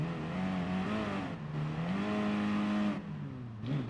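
A Peugeot 208 race car in Gran Turismo Sport at Willow Springs, its engine droning and climbing in pitch through upshifts, revving hard and steady in the foreground before easing off and picking up again, no talking.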